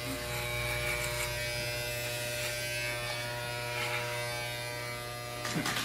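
Electric clippers buzz steadily and close up while shaving off a full head of hair, a continuous hum running the whole time with a short rougher burst near the end.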